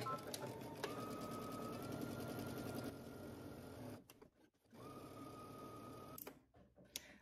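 A sewing machine runs in rapid, rhythmic stitching bursts, pausing briefly and starting again, close up and steady.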